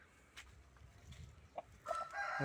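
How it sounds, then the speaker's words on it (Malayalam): A Giriraja country chicken clucks close by, with a short run of bright, throaty calls near the end that builds over a quiet farmyard background. "നല്ല കോഴിയാണ്, ഗിരിരാജൻ്റെ നാടൻ കോഴിയാണ്"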